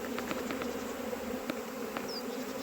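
Honeybee swarm tipped from a skep buzzing steadily as the bees march into a hive, a dense close drone with individual bees flicking past.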